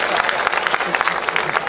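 Church congregation applauding at a thanksgiving service, a brief burst of steady, fairly close clapping from a crowd.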